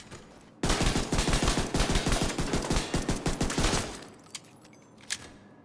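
Rapid automatic gunfire from a weapon in The Division 2 rattles off in one long, loud, evenly spaced burst of shots, then trails into a few scattered single pops.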